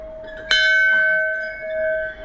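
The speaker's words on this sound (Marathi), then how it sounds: "घंटी वाजव्या घंटी" A single bell at the Mahakali temple in Adivare, Konkan, is struck once, a sharp close metallic strike followed by a clear, loud ringing tone that decays slowly over about two seconds.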